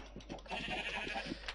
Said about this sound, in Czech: Takhle nějaký ovečky si tady zabijem.